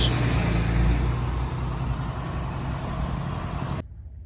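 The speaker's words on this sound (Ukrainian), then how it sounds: "вон там поїхав погрузчик, буде вигружати" A forklift drives off to unload a blue semi truck at a freight yard, its engine a steady low rumble amid broad traffic-like noise that cuts off abruptly near the end.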